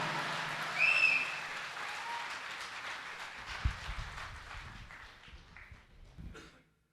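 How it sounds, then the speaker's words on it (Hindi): Audience applause at a mushaira welcoming a Hindi poetess, a dense burst of clapping that swells at the start and gradually thins out and fades over several seconds, with a few scattered louder claps near the end. "जोरदार तालियों से उनका खैर मकदम करें।"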